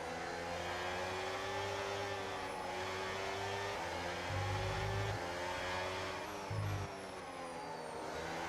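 Race cars in the F1 26 video game at Spa roar in a steady, dense engine drone, with pitch shifts as gears change and brief surges of louder revving, no voices present.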